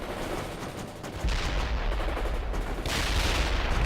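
Sustained battlefield gunfire and explosions from the real-time strategy game World in Conflict, a dense continuous roar that swells louder partway through, with no voices.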